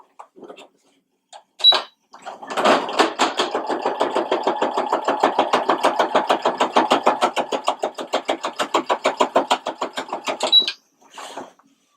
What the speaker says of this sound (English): So I'm now sewing the bottom of the shirt. So I'm just sewing the casing.